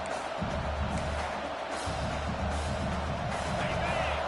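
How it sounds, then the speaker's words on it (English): A college football stadium crowd rises to a steady, loud roar as the home defense holds in the red zone, with a commentator's voice running over the noise. "And the crowd coming to life here, trying to help this defense down in the red zone."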